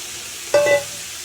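Onion, garlic, turmeric and salt frying in hot oil in a pan, a loud steady sizzle throughout with one brief squeaky tonal sound in the middle.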